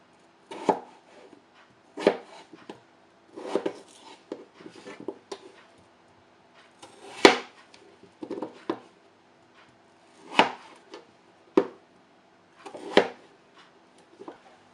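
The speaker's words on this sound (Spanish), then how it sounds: "Una vez que ya tenemos las patatas peladas y lavadas, las cortaremos tipo gajo." Peeled, washed potatoes are cut into wedges, each knife stroke landing as a separate crisp chop on a board at an irregular pace, close by and on their own with no talk.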